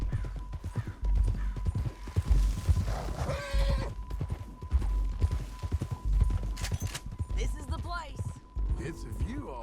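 Horse hooves clip-clop steadily in the Red Dead Redemption 2 video game, mixed with a whinny and game voices and music; a voice talks over the rhythmic hoofbeats throughout.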